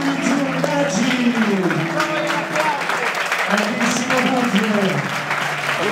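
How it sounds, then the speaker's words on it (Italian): Dense crowd applause and cheering fill a combat-sports arena at the Invictus Arena 15 fight event after a 72 kg bout, steady and loud throughout, with an announcer's voice and tonal music running underneath. "un grande applauso"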